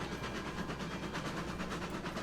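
Train rolling on rails in the Railroads Online video game, a steady rumbling run with rhythmic clickety-clack pulses, moderately loud and unbroken for the whole stretch.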